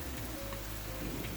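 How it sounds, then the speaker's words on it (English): Water gushing out of a shaking pipe makes a steady, dense rushing hiss with no pauses, loud and close, without any talk. "see that the pipe is shaking because it's got so much water coming out of it"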